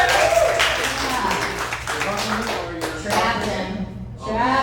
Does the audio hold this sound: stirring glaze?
no